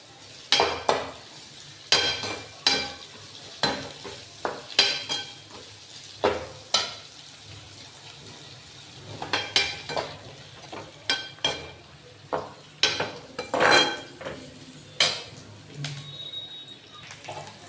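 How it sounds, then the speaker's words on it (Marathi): Vegetables and garlic being sautéed in a pan for kurdai bhaji: a spatula repeatedly scrapes and clatters against the metal over a soft frying hiss. The strokes come in an uneven rhythm, close up and moderately loud. "आपण सर्व परतून घेणार आहोत"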